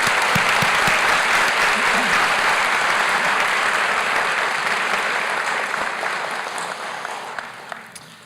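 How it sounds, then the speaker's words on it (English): An audience at a college academic and leadership awards convocation gives a long, loud round of applause for student award winners, holding steady and then fading gradually toward the end. "Let's give one more round of applause to these students."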